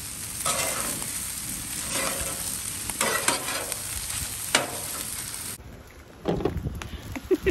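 Food is stirred and turned on a hot teppanyaki grill, giving a continuous close sizzle and fry with scraping stir strokes, quieter toward the end.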